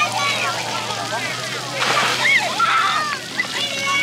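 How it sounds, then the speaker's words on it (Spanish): Water from filling buckets at a water park tips and splashes down in continuous sloshing bursts, with faint children's voices and park bustle mixed in. "Esas cubetitas se llenan de agua y caen así, esas muy seguido."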